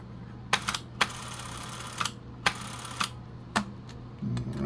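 Fujica ZXM 500 Super 8 camera after a shutter press, giving a series of sharp mechanical clicks and clatters at irregular intervals, fairly close and quiet, followed by a short whirring stretch at the end.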